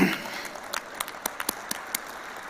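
Audience at a Naturopathy Day event in Pune clapping, a thin scatter of separate hand claps at an irregular pace, moderately close, over a low murmur of the room.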